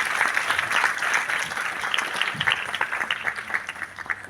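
An audience at a school award ceremony gives a sustained round of applause, dense and fairly close, with individual claps popping through the wash and gradually thinning toward the end.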